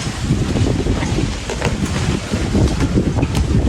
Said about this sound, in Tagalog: Oh, lakas ng hangin. Lakas ng hangin.